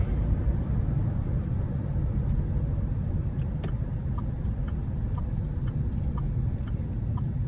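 A steady low engine rumble from a 2005 GMC Canyon SLE pickup with a 3.5-litre engine and 236,000 miles, on the move, constant and fairly loud, with a few faint clicks over it.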